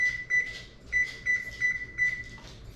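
Kitchen oven being set to preheat to 425 for a pie, giving a series of short, clear electronic beeps in an uneven rhythm, close and fairly loud against a quiet background.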